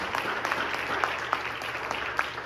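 Church congregation clapping for the Lord during a Spanish-language sermon service, a steady, moderately loud patter of many hands in a reverberant hall, with faint murmuring voices underneath.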